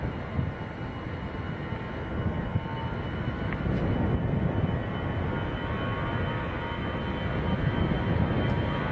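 An EasyJet Airbus A320 makes its takeoff roll at Manchester Airport, a broad, steady jet roar at a distance that swells slightly as it goes, with no voices.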